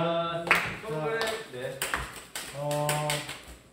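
Scattered sharp hand claps of congratulation mixed with lively talking voices, a few quick claps at a time in a close, casual indoor livestream setting.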